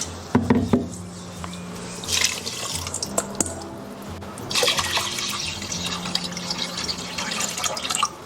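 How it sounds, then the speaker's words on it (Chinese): Tap water filling a rice cooker pot holding ingredients, a close splashing pour that starts and stops in a couple of bursts with faint drips between. "把食材放入到电饭煲里面，然后加入清水。"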